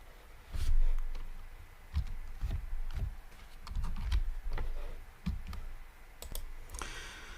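Irregular clicking taps of typing on an AZERTY computer keyboard, close by, with short bursts and pauses between keystrokes.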